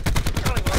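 Rapid automatic gunfire in Call of Duty Hardpoint on the Hacienda map, a fast burst of loud, close shots in a tight even rhythm with no talk.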